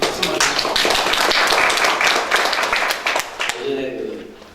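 Lively applause with scattered claps fills the room at a policy forum on Korean history textbooks, fading toward the end as a voice begins speaking.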